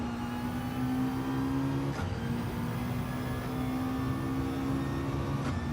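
Racing car engine in a video game, a steady droning hum with a sustained tone that dips briefly midway, continuous and fairly loud with no talk over it.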